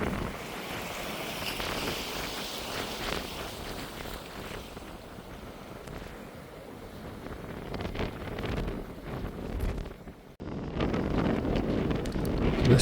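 Water flowing out of the Bird River mouth into the Atlantic Ocean near Port Owen Marina, a steady broadband wash of surf and current mixed with gusty wind buffeting the microphone, continuous with a brief dip near the end.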